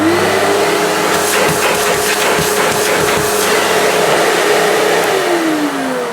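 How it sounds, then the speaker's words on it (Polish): A homemade vacuum cleaner built on a QBRICK System One runs with a steady, loud motor whine that holds a constant pitch, then winds down near the end, with a few faint clicks and knocks in the background. "Po prostu włączamy odkurzacz, kiedy potrzebujemy."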